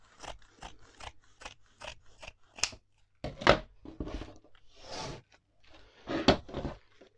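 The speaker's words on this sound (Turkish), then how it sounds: "Paça kısmını da kesip alıyorum." Scissors snipping through fabric to cut off the trouser-leg portion of a traditional Turkish village şalvar, a run of short close, crisp cuts followed by longer rasping slices, with no talking.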